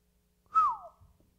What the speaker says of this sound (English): That whistle was like, wow.